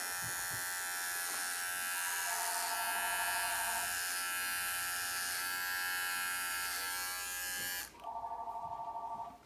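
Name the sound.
electric clippers shaving a patch of an animal's fur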